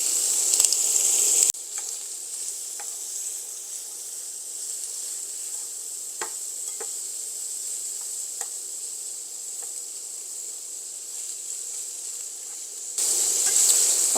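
Sausage browning in a hot pan, a steady close sizzle and hiss throughout with a few faint clicks and scrapes, louder stretches at the start and end, no talking.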